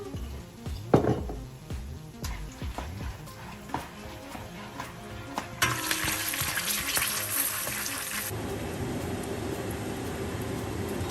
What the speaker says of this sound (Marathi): आता मी इथे टाकणार आहे डाळ्या.